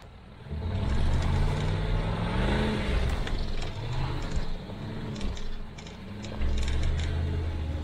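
A 10,000 pound truck towing a 3,500 pound trailer revs repeatedly while stuck during an off-road recovery, engine surging and easing in several bursts with faint clanks in the background.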